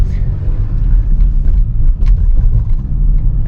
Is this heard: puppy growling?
no